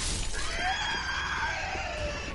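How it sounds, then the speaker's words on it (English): Enemies in the Dark Souls 3 video game let out a loud, sustained scream with sweeping, wavering pitch, layered over a harsh shattering texture, for about two seconds with no talk. "these guys like to scream"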